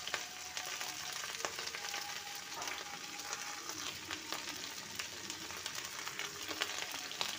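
Onions, slit green chilies and capsicum frying together in a pan, a soft continuous sizzle with scattered crackles and occasional stirring clicks, fairly quiet and without talk.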